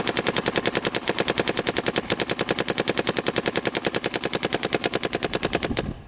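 Dye DSR and M3+ paintball guns firing Valken paint, a loud, steady stream of rapid shots at an even, fast rhythm that continues for about six seconds and then stops abruptly.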